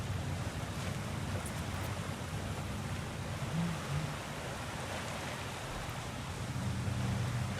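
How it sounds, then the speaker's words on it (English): Water rushing steadily in the action game God of War Ragnarok, a constant broad wash of flowing water heard alone at moderate level. "Sounds like you got the water moving along, brother."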